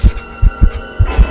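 A pounding heartbeat effect in an animated horror story, six deep low thumps in uneven pairs, loud and close over a faint background hum, with no talk.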